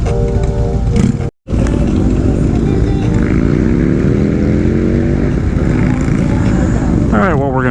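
Motorcycles riding by on Atlantic Avenue during Daytona Bike Week, a loud continuous engine rumble with rising revs from passing bikes, heard from a moving vehicle with speech over it.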